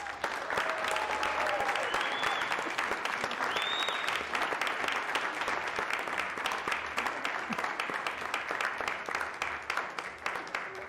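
An audience welcomes an award winner with sustained, even applause from a large crowd in a hall, dense and steady throughout and fading slightly at the end.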